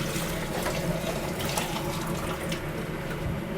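Water for coffee pours steadily into a container, a continuous close splashing and gurgling that holds throughout.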